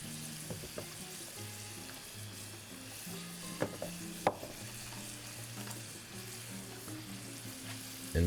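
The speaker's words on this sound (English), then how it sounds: "I'm going to sear my filet real quick." Filet mignon searing in a pan with olive oil and garlic, a steady close sizzle and crackle with a few sharper pops and a low hum underneath.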